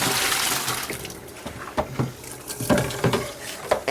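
Hot water washes unhardened gelatin off dye transfer matrix film, a running splashy wash with sporadic louder slaps and drips, close and continuous.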